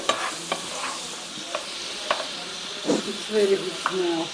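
Shrimp and mussels frying in butter in a pan, a bright hissing sizzle with intermittent spatula taps and stirring, heard up close, with brief quiet speech toward the end.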